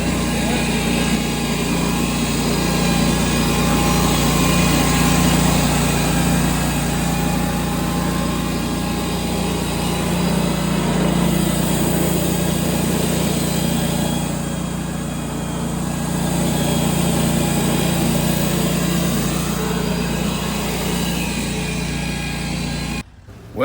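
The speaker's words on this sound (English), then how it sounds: "We're supposed to cut some more lumber on the mill, guys." A sawmill engine runs steadily and loud throughout while lumber is cut on the mill, a continuous droning hum with slight variation, stopping abruptly at the very end.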